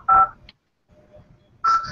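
Two short, loud telephone keypad dialing tones, separated by a quiet pause with faint background noise.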